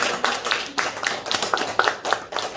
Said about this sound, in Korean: 우리 하나님께 영광의 박수 할렐루야.